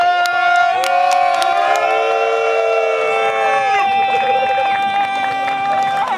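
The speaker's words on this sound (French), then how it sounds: "Mesdames et messieurs, applaudissez DK!" A crowd cheers loudly at a live wrestling show, a constant roar of voices with music-like sustained tones over it and scattered claps and shouts throughout, full and near.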